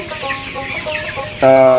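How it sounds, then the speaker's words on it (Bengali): Sonali chickens cluck on a poultry farm holding around 2000 birds, a busy overlapping flock chatter that swells into a loud, close, sustained squawk near the end. "আমি এখানে প্রায় 2000 মুরগি আছে"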